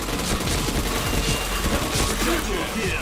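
Rapid gunfire in a shooting video game, dense bursts of shots that run continuously and loudly throughout, with a voice faintly mixed in.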